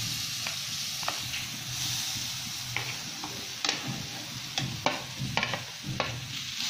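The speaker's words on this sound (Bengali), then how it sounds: "নারকেলগুলো আমি 5 মিনিটের মতো একটু হালকা করে ভেজে নিব" Grated coconut fries lightly in a pan with a soft, even sizzle, punctuated by frequent sharp ticks and scrapes of a spatula stirring, close and moderately loud.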